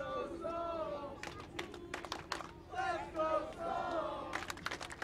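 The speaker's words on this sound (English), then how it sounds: "Now the crowd here trying to fire up the hometown Albuquerque Sol" A soccer crowd at an Albuquerque Sol FC home match rhythmically chanting and shouting to rally the team, coming in loud surging bursts with distant voices.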